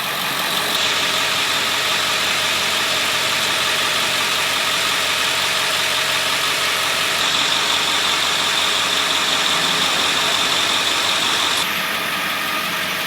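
A stock International 7.3 diesel with turbo and factory intercooler idles steadily close by, a continuous broadband rumble that stays even throughout with no voices.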